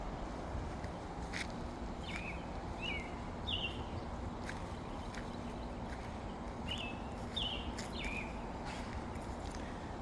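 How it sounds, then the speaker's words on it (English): Birds chirp in short, scattered bursts of song on an Alabama homestead on a rainy summer day, faint and distant over a steady outdoor hiss. "The birds seem to be quite happy."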